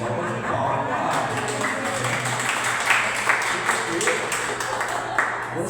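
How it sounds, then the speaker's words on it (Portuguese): Audience at a psychology seminar breaks into a sustained round of clapping, a dense patter of many hands lasting several seconds, with a voice murmuring underneath. "Uma salva de palmas."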